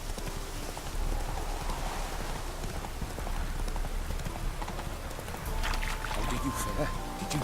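Geralt's horse Roach galloping in The Witcher 3, steady rapid hoofbeats under a wash of rain and game ambience, with a voice speaking later in the clip.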